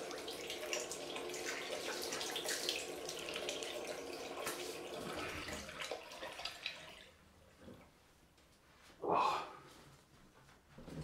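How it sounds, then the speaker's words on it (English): Cold water runs from a tap for a rinse during a head shave, a steady splashing flow that thins and fades partway, followed by a short louder gush near the end. "On with the cold rinse. Cold water rinse."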